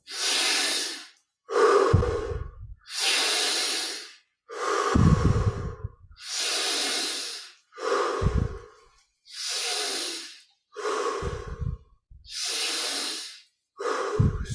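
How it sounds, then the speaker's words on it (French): Slow, deep breaths during a guided meditation session, about ten long inhale and exhale cycles with steady pauses between them, close and clear with no talking. "10 respirations profondes."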